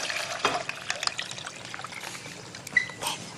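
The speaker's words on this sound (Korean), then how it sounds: "그다음에 이제 물을 좀 부어주세요." Water trickles and splashes as it is poured into a pot holding dried chili, ginger and rice wine for a seafood jjamppong broth, a soft continuous pour with a few brighter drips, close and alone.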